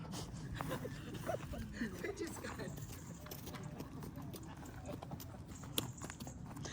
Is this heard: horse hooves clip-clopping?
yes